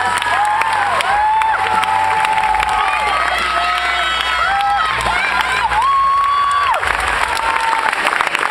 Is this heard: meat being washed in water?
no